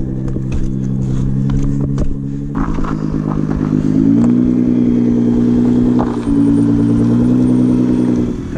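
A Nissan GT-R accelerates hard down a canyon hill road with a loud, close engine roar that climbs in pitch and steps through several gear changes without pause.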